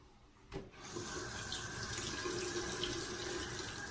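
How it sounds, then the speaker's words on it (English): Tap water running into a sink to rinse away shaving lather, starting after a brief clunk and then flowing steadily and softly nearby. "Getting a lather mess cleaned up."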